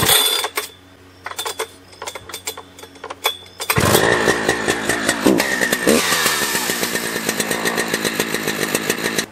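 A big Husqvarna chainsaw engine rips to life after a few seconds of quieter idling and clatter, then holds a loud, close, buzzing roar with slight changes in pitch for the rest of the stretch.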